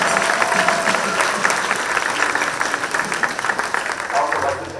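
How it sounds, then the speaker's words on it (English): Audience applause at an orchestra and band fall school concert, a steady, dense wash of clapping from a crowd that carries on throughout, with some voices mixed in underneath. "Let's give a round of applause."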